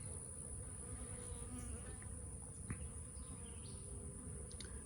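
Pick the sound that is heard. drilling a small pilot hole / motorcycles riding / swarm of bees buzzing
swarm of bees buzzing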